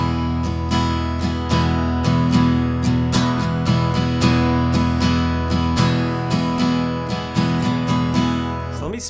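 An acoustic guitar plays a beginner's 4/4 strum pattern of continuous down-up strokes, with a steady, evenly spaced rhythm of ringing chords, close and clear, and the chords change along the way.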